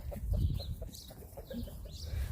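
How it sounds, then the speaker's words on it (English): A homestead rooster clucks softly and intermittently nearby, low murmuring calls in short bursts over faint background noise. "Hello, Rooster."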